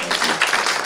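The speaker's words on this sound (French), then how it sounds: "Applaudissons et faisons alléluia" Church congregation clapping together in a dense, steady wash of applause that stays loud and even throughout, with no voices rising above it.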